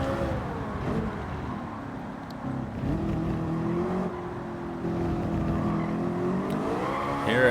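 A race car in Gran Turismo 7 laps Circuit de Spa-Francorchamps during qualifying for the Spa 24 Hours, its engine holding a steady, sustained drone that rises and falls in pitch through the gears, with no gaps.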